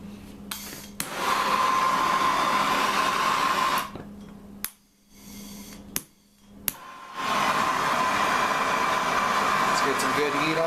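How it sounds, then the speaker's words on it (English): A big torch roars steadily while heating a solder joint, cutting out twice with sharp clicks between bursts before relighting. A voice talks over parts of it. "it looks like I'm going to need a big torch"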